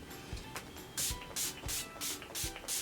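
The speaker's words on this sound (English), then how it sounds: "I'm going to be using my Skindinavia setting spray." Five or six quick bursts of a Skindinavia makeup setting spray mist out in steady succession, close and fairly loud, each a short airy hiss.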